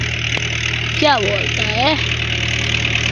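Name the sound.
tractor engine running while spinning on one tyre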